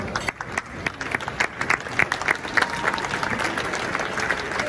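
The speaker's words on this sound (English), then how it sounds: "can I request everyone to stand up, please, and give them a huge round of applause" An audience at a Manchester gathering addressed by property tycoon Aneel Mussarat claps in a sustained round of applause, dense and fairly close, with a few sharper claps standing out and no talk.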